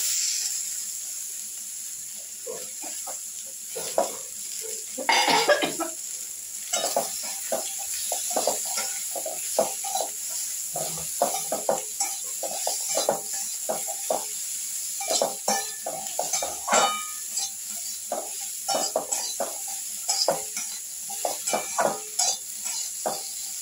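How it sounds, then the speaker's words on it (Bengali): Potatoes and eggplant fry with onion and garlic in a pan, a steady sizzle under frequent scraping and clinking of a spatula stirring them, close by and without talk. "এবার দেবো আমি আলু আর বেগুন।"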